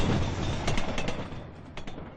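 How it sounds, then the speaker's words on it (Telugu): The Howrah Mail, a Howrah-to-Chennai express, rolls into platform 1 at a railway station with a loud, steady rumble and a few rhythmic wheel clacks that fade slightly. No voices are heard. "హౌరా నుండి చెన్నై వెళ్లే 7054 నంబర్ గల హౌరా మెయిల్ 1వ నంబర్ ప్లాట్ఫామ్ కు వచ్చుచున్నది"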